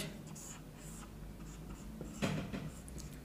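A bond-line chemical formula is written on a board in an organic chemistry lesson, giving short scratchy strokes close by, with a brief louder rub near the end and no speech.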